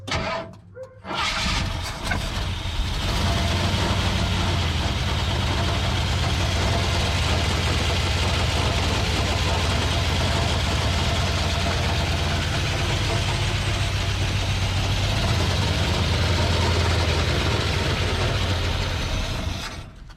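A car engine idles steadily and loudly for about twenty seconds after a brief rough start, with a constant low rumble and a raspy, ticking edge that may point to an exhaust leak; no one speaks.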